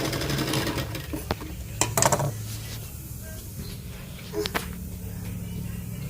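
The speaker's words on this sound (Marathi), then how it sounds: "डबल शिलाई मारून घ्यायची. डबल शिलाई मारताना ह्या बाजूने मारायचं," A sewing machine stitches a double seam on a blouse in close, loud bursts: a fast mechanical whir with a few sharper clicks and knocks between runs of stitching.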